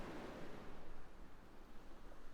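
Ocean waves wash in a soft continuous surf, with a low rolling rush and gentle swells, faint and steady with no voices.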